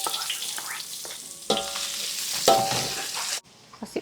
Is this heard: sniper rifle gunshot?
no